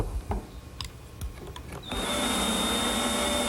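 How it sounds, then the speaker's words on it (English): A handheld router fitted with a straight cutting bit clears wood freehand for a hinge recess on a desk: after some brief knocks and handling, the motor spins up into a loud, steady high whine that holds to the end. "I'll remove the bulk of material freehand using my router and a straight cutting bit"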